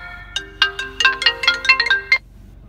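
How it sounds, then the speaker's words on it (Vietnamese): A ringtone sounds for an incoming call on a WEBVISION M39 dash camera with hands-free calling. A bright electronic melody of short repeated tones plays loud and close for about two seconds, with no talking over it. "Chúng ta sẽ nhận được cuộc gọi đến đúng không ạ?"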